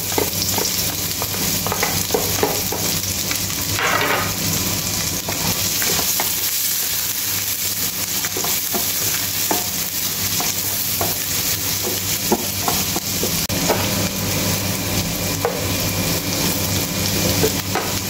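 Garlic and onion sautéing with ginger in a pan for chicken feet tinola, a steady close sizzle with scraping stirs throughout and no talking.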